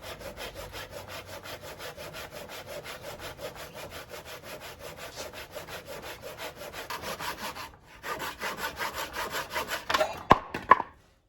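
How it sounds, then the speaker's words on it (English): A hand saw cuts tenons on a timber rafter for a timber-frame truss, producing steady rhythmic rasping back-and-forth strokes close by, a brief pause, then faster strokes ending in a few sharp knocks. "I have the tenons cut on the rafter now."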